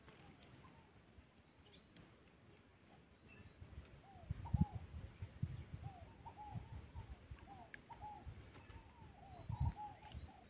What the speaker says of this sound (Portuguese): Fogo Pagô é uma das mais ouvidas aqui, que é uma pombinha.